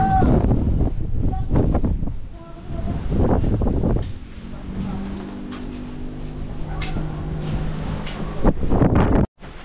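Strong, cold wind roars across a mountaintop campsite in steady broadband gusts, with people talking nearby over the blustery rush.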